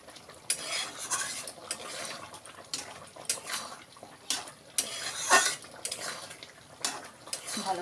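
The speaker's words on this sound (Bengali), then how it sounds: "ভালো করে নাড়াচাড়া দিয়ে দিলাম।" A spoon stirring a simmering curry in a metal pot after garam masala goes in, with soft bubbling under repeated scraping and clinking strokes against the pot, fairly quiet and close.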